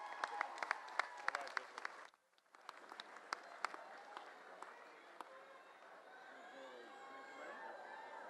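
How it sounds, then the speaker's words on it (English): Graduates and guests at an outdoor college commencement applaud, crisp scattered clapping that breaks off briefly, then resumes more softly with crowd murmur and chatter beneath. "Now give yourself a resounding clap and applaud yourself for a job well done."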